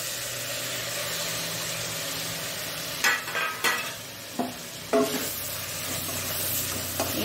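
Fenugreek leaves for methi pulao fry in a pan under a steady low sizzle, with a few distinct clanks and scrapes of stirring midway, close and otherwise quiet, no talking.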